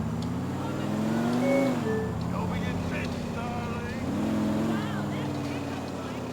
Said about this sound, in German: Und wir fahren zurück zu Kate.